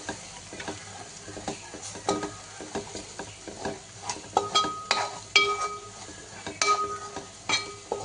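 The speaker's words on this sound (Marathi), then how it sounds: "पावभाजी मसाला एक मोठा चमचा घालून घेते आणि आपली काश्मीरी लाल मिरची पावडर आणि पूर्ण मिक्स करून घ्यायचं" Pav bhaji masala and Kashmiri red chilli powder stirred in a pan for street-style smoked pav bhaji, with a soft sizzle under irregular scrapes and clinks of a spoon against the metal pan.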